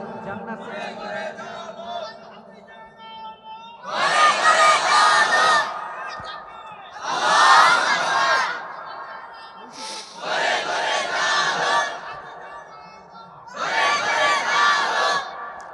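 A large crowd at a Bangla waz mahfil roars back a takbir chant several times, each loud, massed shout of voices answering a preacher's amplified call in turn.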